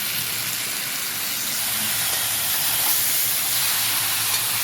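Meat hits a hot pan with dried red chilli and turmeric powder, giving a loud, steady, dense sizzling hiss that stays even throughout with no voices.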